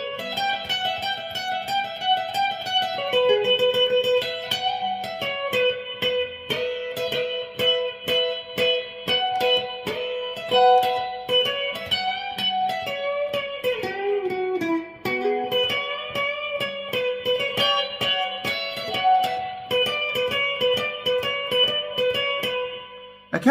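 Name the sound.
electric guitar solo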